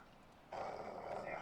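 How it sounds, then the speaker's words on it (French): A Russian dog growls in the video game Call of Duty Modern Warfare, a brief, faint, low snarl that starts suddenly after a quiet moment. "C'est un chien russe méchant."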